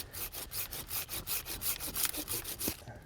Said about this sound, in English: I'm going to make a little cut on the bottom because I don't want to strip out this tree